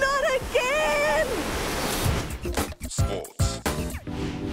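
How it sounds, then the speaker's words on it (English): Rushing water from a waterfall on the Kaituna River, heard from a kayak: a steady, broad roar that swells in uneven surges, with high whistling, bird-like tones over it at first. "there's a waterfall ahead, and it looks huge"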